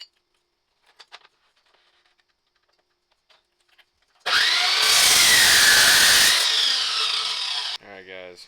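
A power tool cuts through steel tube for an S13 tube front end: a few faint clicks and taps, then a loud, steady, harsh grinding roar lasting a few seconds before it cuts off, followed by brief rattling.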